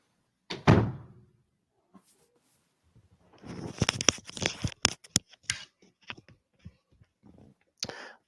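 Kids knocking at a house door during an indoor talk, a single loud thud followed by a busy cluster of sharp knocks, clicks and rattles, with a couple of later taps.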